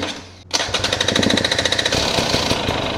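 A dirt bike engine being prepared for a trail ride sputters and catches after a brief pause, then runs loud and close with a fast, rattling, evenly pulsing single-cylinder beat.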